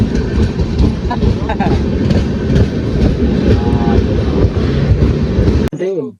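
A passenger train runs steadily with loud continuous rumble and rhythmic clatter of the wheels, a person talking over it, before it cuts off abruptly near the end.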